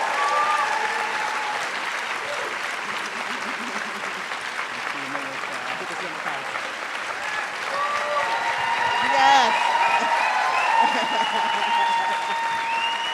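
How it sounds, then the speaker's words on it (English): A large audience at an interview event breaks into sustained applause, a dense, even wash of clapping that swells slightly toward the end, with voices and faint whoops mixed in. "Please give a wonderful round of applause for Miss Melissa Harris Perry."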